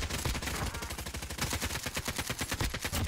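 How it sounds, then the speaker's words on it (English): Rapid automatic gunfire in the video game Warzone crackles in dense, fast bursts, a steady rattle of shots in quick rhythm throughout, moderately loud with no voices. "They're getting shot at."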